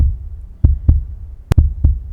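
A heartbeat sound effect from an audio drama: low, deep thumps in two double-beat pairs, close and loud with nothing else around them.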